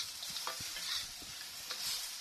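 Blue swimmer crab frying in a wok, with a steady high sizzle and scattered stirring scrapes and knocks throughout, fairly close and moderately quiet, with no talking.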